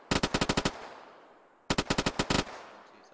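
Two rapid bursts of machine-gun fire, about seven sharp shots each, crack loud and close and are separated by a pause of about a second, with brief echo tails after each burst during a game.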